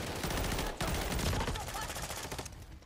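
Rapid automatic gunfire from an online shooter game, dense bursts of shots filling the clip with a brief gap near the start, loud and continuous with faint voice chat underneath.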